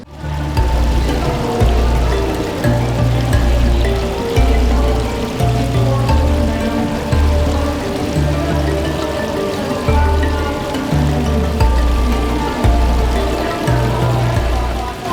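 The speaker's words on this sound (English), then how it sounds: "the sound of the cascading waterfall coming into the pond" Cascading garden waterfall pouring into a pond at an indoor flower and garden show, a steady, loud rush of falling water with a constant churning splash, close and unbroken, with faint voices mixed underneath.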